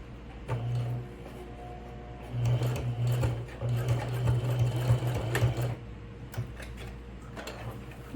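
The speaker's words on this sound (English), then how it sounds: "And then we're going to take it to the sewing machine." Sewing machine stitching a fabric toiletry pouch with a zipper, in short close bursts of fast rhythmic whirring separated by ticks and handling clicks.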